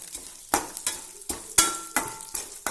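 Toor dal and urad dal fry in oil in a small pan for sambar chammanthi, with loud, rhythmic stirring scrapes breaking up a constant sizzle about every half second.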